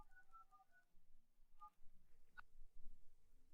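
Telephone keypad tones dialing a call: a short run of faint, quiet beeps at the start, then a couple of isolated tones, over low background hum with no talking.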